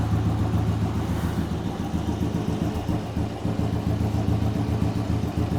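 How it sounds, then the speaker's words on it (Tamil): A car engine with its original stock silencer idles steadily and close by, a low, even rumble with a regular beat and no voices over it. "இன்ஜினோட பீட் தம்ப் மட்டும் கேளுங்க எப்படி இருக்குன்னு"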